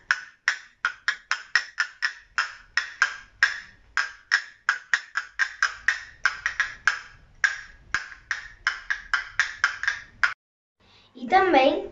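Castanets in flamenco music click out a rapid, crisp rhythmic pattern of bright, close strikes for several seconds, then stop as a voice briefly starts speaking.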